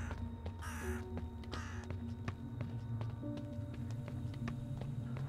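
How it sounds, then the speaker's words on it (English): Crows cawing in a zombie video game, several harsh caws standing out over a muffled background of ambient game sound and footsteps-like taps, fairly close and repeated at irregular intervals. "Alright, oh, the crows."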